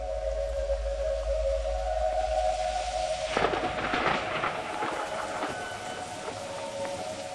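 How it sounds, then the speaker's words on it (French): Thunder rumbles through a rainstorm over a Brazilian forest, a broad burst swelling about halfway in and rolling on under steady rain noise, with a faint low hum beneath. "C'est maintenant la pluie et les éclairs qui menacent notre travail."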